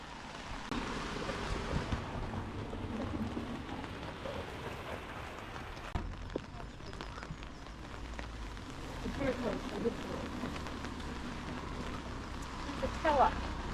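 Rain patters steadily over a walk near Grasmere in the Lake District, a soft continuous hiss with faint footsteps and occasional voices in the background.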